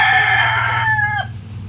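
A young rooster, a stag, crows once up close and loud on a farm, the drawn-out call held for over a second before it breaks off sharply, leaving quieter clucks and farmyard noise behind.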